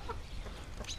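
Backyard chickens cluck in a brief, close burst of a few soft calls over steady outdoor background noise.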